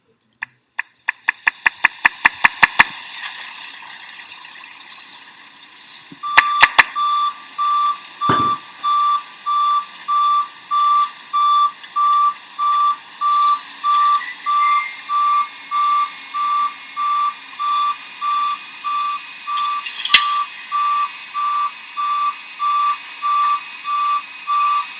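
Truck reversing alarm beeping in a steady, evenly spaced pattern, loud and close, running continuously after a few earlier rapid clicks and a brief knock, with no talking.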